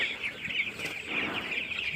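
One-month-old vaccinated Kazi Tiger chickens on a poultry farm in Anwara, Chattogram, keep up a continuous chorus of shrill peeping and chirping, close and busy, with a soft flutter partway through.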